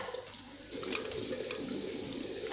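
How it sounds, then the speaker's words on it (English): Water splashes steadily as a face is rinsed at a sink, a continuous close wash of running and splashing water that grows louder partway through. "I'm rinsing my face because my eyes are really stinging."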